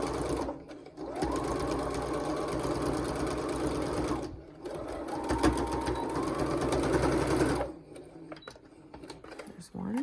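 A sewing machine stitches pleats on a fabric face mask, its rapid steady whirring running in several long bursts separated by brief pauses, with a voice talking over much of it.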